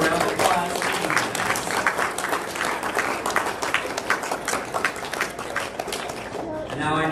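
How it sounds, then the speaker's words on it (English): Audience applause for the pilots at a regional drone racing event, a dense sustained wash of clapping and crowd noise that runs loud for several seconds and then cuts off, with some voices mixed in. "Big round of applause."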